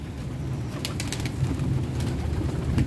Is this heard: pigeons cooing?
yes